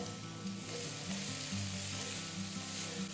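Sliced onion and carrot fry in oil with a steady close sizzle, with rhythmic tossing or stirring noises repeating across the few seconds and no talking.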